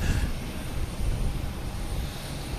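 An airplane taking off at Boston Logan Airport, its engine roar a steady broadband rumble heard from a distance.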